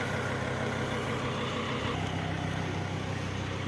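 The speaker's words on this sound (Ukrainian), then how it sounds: "рівненько працює, ось я збоку його знімаю і чую, як працює двигун" A 2003 Mercedes 2.7 CDI diesel engine idles evenly nearby, a low steady rumbling clatter that holds constant throughout, with no talking.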